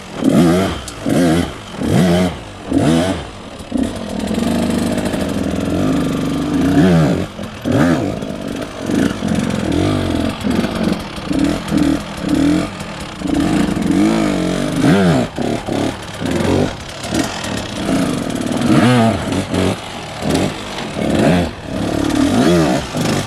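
An enduro motorcycle engine revs hard in repeated sharp bursts as the rider practises the pop-up technique and clutch control, close and loud, rising and dropping with short idle gaps between throttle blips.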